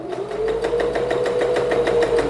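Sewing machine stitching a baby rolled hem on special occasion fabric at stitch length 3, running in a steady, rapid, even stitching rhythm, close and alone with no talk.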